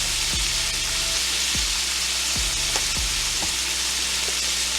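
Turkey pieces browning in a pot, a steady loud sizzle and frying hiss throughout, with a few soft scrapes as the meat is stirred or moved.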